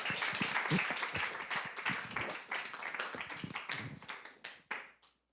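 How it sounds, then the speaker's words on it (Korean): Church congregation clapping together to welcome a missionary, a dense, close burst of applause that fades out near the end. "우리 박수로 선교사님 모시겠습니다."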